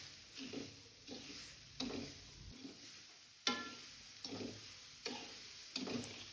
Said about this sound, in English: Stir continuously until sugar melts.